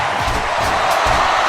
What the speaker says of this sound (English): Crowd just loves it. They just love this action.